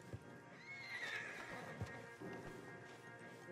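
A stallion in the Red Dead Redemption 2 video game gives a loud, close, drawn-out neigh, with a few hoof clops and the creak of shifting tack around it and no talk over the call.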